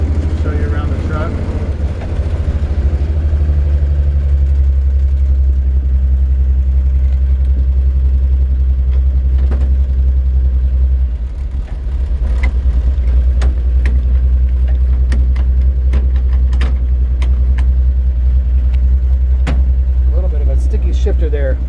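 A 1949 Chevrolet 3100 five-window pickup with an inline-six engine idles steadily with a deep, even rumble close by, while a person talks over it throughout.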